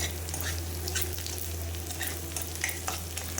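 Onions and boiled chickpeas fry in a pan with a steady, close sizzle and crackle, plus light stirring scrapes and a low hum underneath throughout.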